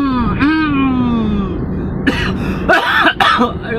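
A man clears his throat and then coughs, loud and close, with a drawn-out voiced rasp followed by a couple of sharp harsh bursts.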